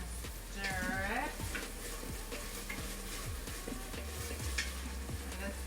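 Meat for ropa vieja browns in a pan with a constant crackling sizzle, broken by repeated scraping stir strokes. A brief voice is heard near the start.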